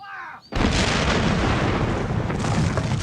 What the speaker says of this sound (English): a giant artillery barrage intended to soften up the Union defenses before the attack began with a deafening explosion